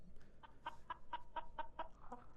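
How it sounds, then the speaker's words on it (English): A chicken clucks inside a music track, a steady run of about seven short evenly spaced clucks at moderate volume, with no voices over it. "Is that a chicken? It's like clucking."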